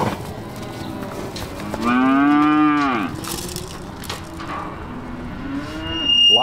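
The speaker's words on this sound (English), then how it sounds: "here we have our bigger fleshy cows and our smaller fleshy cows" Cattle bellow in a busy cattle yard where livestock are sorted by size and weight, one long, loud moo swelling near the middle over a steady murmur of other animals and yard noise.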